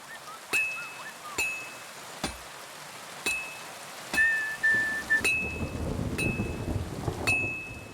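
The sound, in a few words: heavy rain in the video game Kingdom Come Deliverance 2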